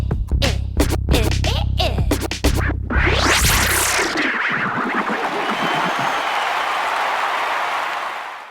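Following rhythmic beats and a rising whoosh, a crowd applauds and cheers at a kids' hip hop phonics show, the noisy clapping swelling and then fading away.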